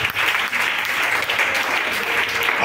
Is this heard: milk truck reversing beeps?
no